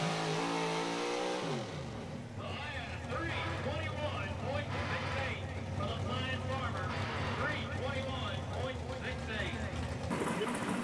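A big block 4x4 pulling truck launches at a truck pull in Fishersville, Virginia, its engine roaring loud and steady as it takes off and pulls hard down the track, with a rising revving whine throughout.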